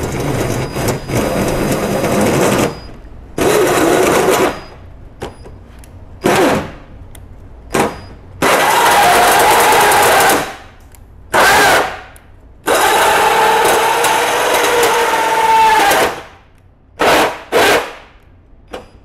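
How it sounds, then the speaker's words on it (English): A circular saw cuts a round snorkel hole in the body of a 2010–2022 Toyota 4Runner in loud, close bursts of harsh grinding. The cuts run from brief to several seconds long, separated by sudden quiet gaps. "this is so nice to have a perfect circular saw to cut this"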